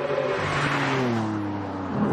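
A Lamborghini Aventador's engine pulls hard under acceleration on the road, a loud, close, rising roar with climbing tones as revs build through the gears, no talk over it.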